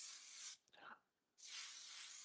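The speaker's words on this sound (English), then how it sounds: "This blue bottle, active in the first ingredient is alcohol, which means it's a fixing spray" Two bursts of alcohol-based makeup fixing spray from a blue bottle, a close, loud hiss about half a second long, a short pause, then a longer hiss of nearly a second.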